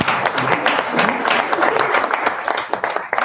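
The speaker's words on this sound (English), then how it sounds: "Round of applause." Loud, sustained applause from a conference audience at an energy event, many hands clapping densely and evenly, with a few voices audible beneath the clapping.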